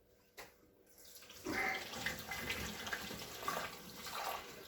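Peach brandy mash siphoned through a funnel fitted with a sieve into a bucket, a soft continuous trickle and pour of liquid that starts after a quiet moment and runs steadily, faint and close.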